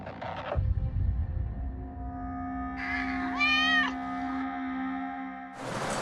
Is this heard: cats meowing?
yes